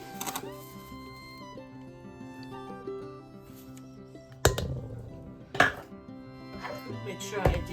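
Sugar gets mixed into quick bread batter in a bowl, with a utensil clinking and knocking against the bowl, mostly a soft scraping bed broken by three sharper, louder strikes.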